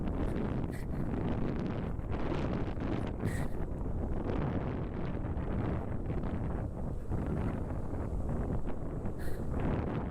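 Strong wind buffeting across a beach at Mangalore, a constant loud roaring rush that blasts the microphone for the whole stretch with no pause.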